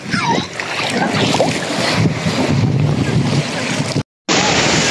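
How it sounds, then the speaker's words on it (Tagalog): Sea waves wash onto a natural beach at Esplanade, San Jose, Antique, Philippines, as a loud, steady surf roar with strong wind buffeting the microphone, broken by a brief dropout near the end. "Nami ang balod guys, ayan."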